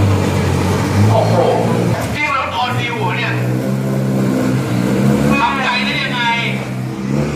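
Isuzu race car engine revving at a race track, a loud continuous droning roar that rises and shifts in pitch, with an excited announcer talking over it.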